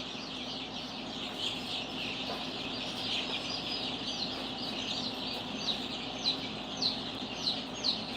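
Baby chicks peep steadily, with their high, repeated cheeps rising slightly toward the end over a low, constant room hum.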